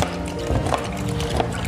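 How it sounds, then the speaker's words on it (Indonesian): Water is poured over a baby sulcata tortoise, giving a steady, close splashing trickle throughout. "kita siram-siram."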